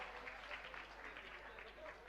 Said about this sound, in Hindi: तालियां बजाकर एक बार अनुमोदना कर दें सभी साथी लोग।